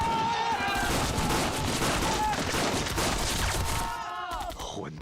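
Rapid volleys of gunfire crackle continuously in a battle scene from an action film, loud and dense, with shouting voices mixed in and the firing easing toward the end.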